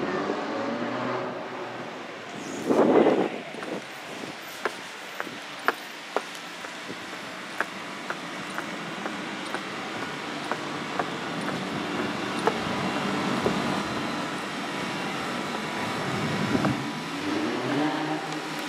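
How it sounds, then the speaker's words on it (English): A loud motorbike passing on a town street near a clock tower in Huddersfield, rising and fading over traffic noise, with scattered sharp ticks along the way. "So it's a loud motorbike"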